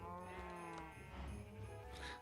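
A cow mooing in Minecraft with the FTB Regrowth modpack, a steady low bovine call running through the whole clip over ongoing game ambience, with no talking.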